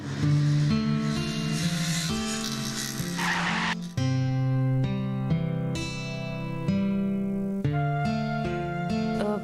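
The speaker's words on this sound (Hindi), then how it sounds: "बस रोक दो गाड़ी।" A car's tires squeal loudly and continuously as it brakes hard to a stop, the screech holding and shifting in pitch for several seconds with no voices.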